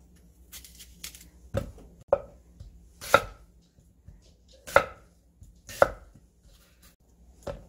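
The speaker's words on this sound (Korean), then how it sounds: "무를 이렇게 다 썰어 놓고 양념을 또 썰어야지" A knife chops seasoning vegetables such as apple, chilli and ginger on a cutting board for dongchimi, with about six distinct, crisp thuds spaced roughly a second apart, close and clear against near silence.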